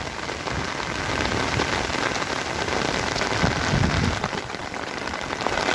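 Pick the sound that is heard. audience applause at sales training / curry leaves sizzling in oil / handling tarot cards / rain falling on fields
rain falling on fields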